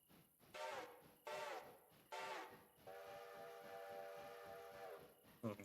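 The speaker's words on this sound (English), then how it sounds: "Just hear the whistle at the front now." Steam locomotive whistle in the railroad game Railroader, three short harmonic blasts followed by one long sustained blast over a steady rhythmic rumble of the moving train.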